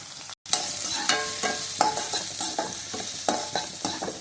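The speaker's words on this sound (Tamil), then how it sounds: "கொஞ்சமாக கருவேப்பிலையும் வெங்காயமும் போட்டுக்கிறேன்." Curry leaves, onion and tomato sautéing in a pan, a steady close sizzle broken by repeated scraping stirs of a spoon, with no talking.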